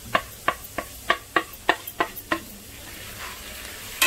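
Chana masala and red chili powder being stirred into onions frying in a pan, heard as about nine sharp, regular scraping strokes of a spoon over a faint sizzle, the stirring stopping and only soft sizzling remaining.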